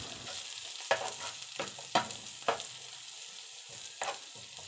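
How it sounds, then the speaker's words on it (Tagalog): Garlic and onion sauté in a pan as the base for a bitter gourd dish, with a low steady sizzle broken by a few sharper scrapes and knocks of a utensil stirring, all close and fairly quiet. "magigisa ako ng bawang, tsaka sibuyas"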